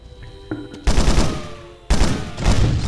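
Grenade launcher fire in the video game Fugitive Hunter: War on Terror, during a close-quarters firefight: two loud, sustained bursts of heavy shooting and blasts, the second beginning about a second after the first ends, with no talking.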